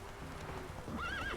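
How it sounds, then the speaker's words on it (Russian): A horse in The Witcher 3: Wild Hunt trots with steady clip-clop hoofbeats and then gives a rising whinny near the end, all fairly quiet with no talking. "На лошадке будет побыстрее."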